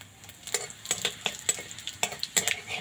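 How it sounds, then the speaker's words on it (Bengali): Coriander seeds being fried in oil in a pan, with a steady run of sharp clicks and taps from stirring over a soft, low sizzle, close and fairly quiet. "হালকা ভাজা হয়ে গেছে ধনেটা"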